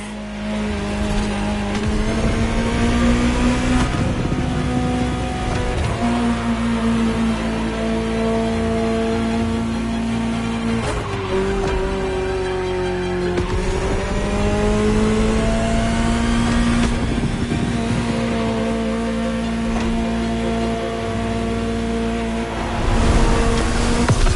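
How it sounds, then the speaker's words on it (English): A Ferrari sports car engine roars continuously as it drives, the pitch rising and dropping with each gear change and surge of acceleration. "Just listen to the car you're driving."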